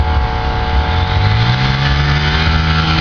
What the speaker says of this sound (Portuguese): Vamos ver o Baby Sauro Baby Sauro ensinando a empinar uma moto